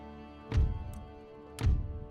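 Distant cannon fire from the Empire Total War game, with a battery of demi-cannons shooting at massed enemy cavalry, sounds as two muffled low thumps about a second apart over a quiet backdrop.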